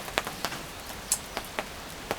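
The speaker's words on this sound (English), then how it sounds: "as you can hear it's raining at the moment, or there's drops of rain" Scattered raindrops tap sparsely and irregularly on a surface outdoors beside a pottery wheel tent during a sunny shower, each drop a short, close, light tick with quiet gaps between them.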